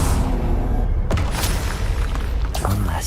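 Confringo fire blast spell in Hogwarts Legacy, a dense loud booming explosion with crackling bursts, two sharper hits standing out over a constant roar of battle effects.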